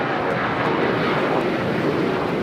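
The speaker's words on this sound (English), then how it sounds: "Condor, flight 2081. Special day side takeoff on the south side coming up." A Condor airliner takes off from the south side at LAX, its jet engines producing a loud, sustained broadband roar that holds steady throughout, with no talking.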